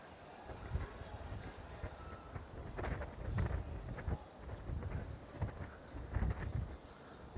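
Gusty wind buffets the microphone on a Birmingham city walk, a low rumbling roar that swells and dips in irregular gusts throughout.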